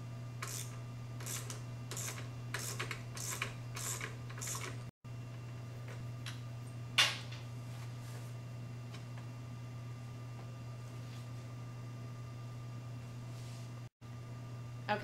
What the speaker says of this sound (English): remove your muffler hanger bolt, and you do that using a 12 millimeter socket and wrench